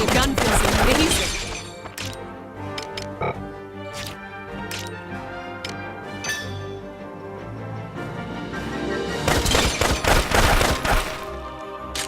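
Gunfire in the video game Valkyria Revolution: dense bursts of shots and crashing impacts open and close the passage, with scattered single cracks between over a steady musical score and voices.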